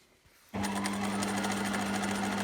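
A sewing machine stitches a zip pouch. After half a second of near quiet it starts and runs at a steady, loud, even hum with a fast needle rattle that continues to the end.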